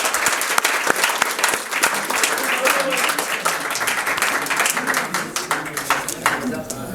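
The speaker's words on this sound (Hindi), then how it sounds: "इनके लिए तो ज़ोरदार तालियां बनती हैं।" A crowd at a school sports gala award ceremony breaks into loud, continuous clapping with distinct individual hand claps, lasting several seconds with faint voices in the background.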